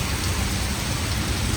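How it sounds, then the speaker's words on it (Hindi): Heavy monsoon rain pours down steadily in strong wind, a dense, loud, unbroken roar of water hitting surfaces with no pauses or voices. "इतनी भीषण बारिश हो रही है"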